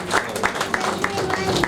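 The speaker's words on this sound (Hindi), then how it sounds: "एक बार जोरदार तालियां कैलाशी के लिए हो जाए फिर से" Applause for Kailashi on stage at an Indian star talent award ceremony, a steady patter of many hands clapping in a hall with a low hum underneath.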